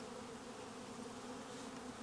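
A steady, dense buzz of many bees swarming close around a hive, continuous and even throughout, with a low droning hum underneath.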